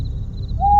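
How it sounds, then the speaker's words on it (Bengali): A single owl hoot rising briefly at the end of a short, quiet stretch of low rumble, set in a horror cartoon night scene by a jungle. "শুধু দূরে কোথাও একটা পেঁচা ডাকছে।"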